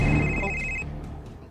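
A cellphone rings with an incoming call: a quiet, steady electronic ring tone that plays for under a second and then fades, in a calm indoor room.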